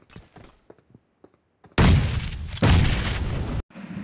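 A grenade explodes in the BGMI battle royale game, two loud, close blasts with heavy rumbling decay following a few faint clicks and taps.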